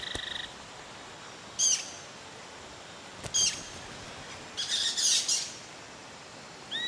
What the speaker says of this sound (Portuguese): os pássaros se reúnem no alto das árvores, como um bando de tiribas de orelha branca